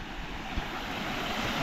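Water runs down from up the hill in a steady, broadband rush like a fast stream or surf, fairly faint and continuous, with no voices present.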